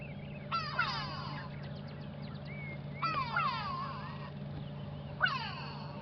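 Three bursts of harsh, nasal grey go-away-bird calls, played from a phone app, with falling, whistly notes, separated by pauses, over a steady low hum.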